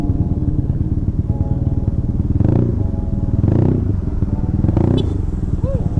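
A Yamaha Aerox motorcycle with an engine bored and stroked to 240cc idles with a steady, rumbling putter, swelling in three brief revs before settling back to its low chug.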